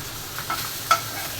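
Fish frying in oil in a pan gives a soft, steady sizzle with a couple of faint stirring taps and one sharper click, close and without voices.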